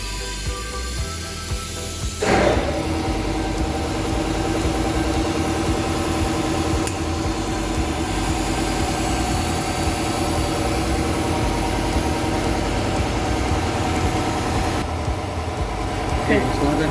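A seam sealing machine runs with a steady, loud mechanical hum and drone while its heater warms up, a sharper clack starting the sustained noise partway in.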